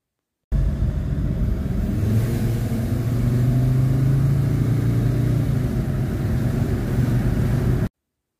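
Mercedes-Benz W203 C-Class 270 CDI diesel on a test drive with a suspected turbo fault, a steady droning engine and road noise heard from inside the car with a faint hiss riding over it, continuous and fairly loud.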